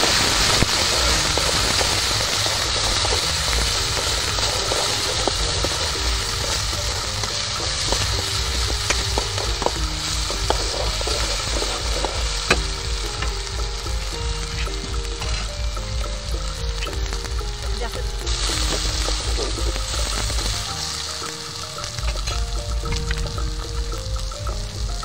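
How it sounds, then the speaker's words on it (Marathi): Onion sizzles and fries steadily in hot oil with cumin, ginger and garlic paste for a village-style chicken curry, a continuous loud crackling hiss with occasional stirring scrapes and no talk. "कांदा आपला परतून झालेला आहे।"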